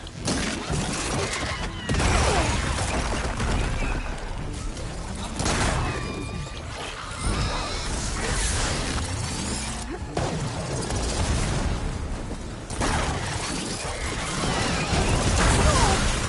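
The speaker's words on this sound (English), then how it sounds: "Lots of explosions." Explosions and crashing impacts rip through a chaotic battle in the action game Horizon Forbidden West, loud bursts and smashes piling up continuously with whooshes and mechanical clatter, no calm gaps.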